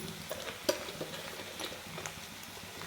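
Spices and red chili powder sauté in oil for a vegetable dish, a soft sizzle under close scraping stir strokes, with one sharper clack near the start and no talk.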